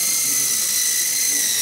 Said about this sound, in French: le souffle du rotor le chahute pas mal pour se poser